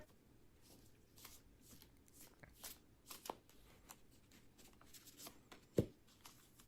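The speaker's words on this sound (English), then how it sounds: "Now that you've shown 3 different times of you shuffling?" Cards are shuffled close by in a series of quick riffling bursts with brief pauses between them, and a few sharper taps at the end.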